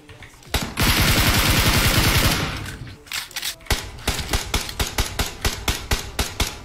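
Gunfire in the PUBG Mobile battle royale game: a sustained loud burst of rapid automatic fire lasting about two seconds, then a series of sharp, evenly spaced single shots ringing out, with no talk.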